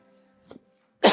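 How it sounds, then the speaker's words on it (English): A short, itchy cough bursts out close and loud right at the end of a trampoline workout, after a faint huffing breath and a low steady hum. "Try to sneak in my itchy cough there."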